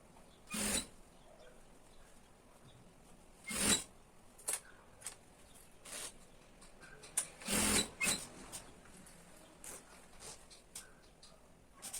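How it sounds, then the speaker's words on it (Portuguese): Sewing machine stitching a straight seam to join fabric and lining on a small zippered pouch, heard as several short whirring bursts spread across the span, separated by quiet pauses, moderately close and without speech. "passa aquela costura reta para unir tudo"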